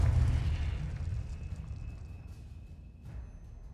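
A Confringo fire spell explodes in the video game Hogwarts Legacy, opening with a loud low rumbling burst that decays slowly. A faint crackle follows near the end.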